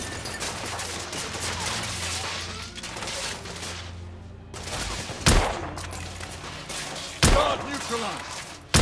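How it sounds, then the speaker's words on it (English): Gunfire in the video game The Order: 1886 during a firefight: a dense, continuous clatter of shots with sharp louder bangs standing out near the end, while voices call out over the shooting. "I'm taking heavy fire!"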